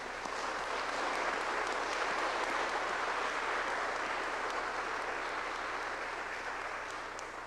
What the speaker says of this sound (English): we put our hands together in a round of applause.